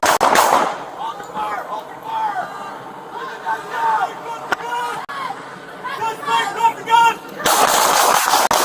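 Loud, close gunfire cracks at the start and again near the end, with shouting and several voices talking over the noise between the shots.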